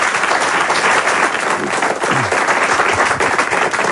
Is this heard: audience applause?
yes